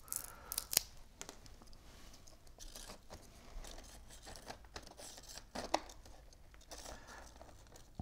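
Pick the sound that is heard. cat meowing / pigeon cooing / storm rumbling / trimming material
trimming material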